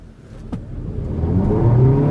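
A 2017 Kia Niro Hybrid floored at full throttle on an open road, its engine whir rising steadily in pitch and loudness over a couple of seconds, heard close and alone.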